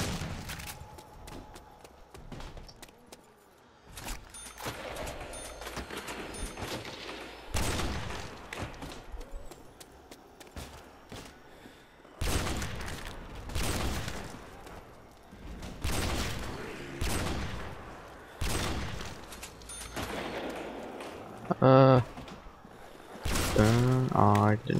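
Shotgun blasts in World at War's Nacht Der Untoten zombie level, loud broadband bursts spaced irregularly between quieter stretches, with someone talking in between.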